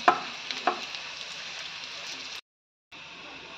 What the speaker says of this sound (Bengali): ভালো করে উল্টে পাল্টে ভেজে নেবো